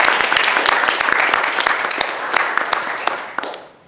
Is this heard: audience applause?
yes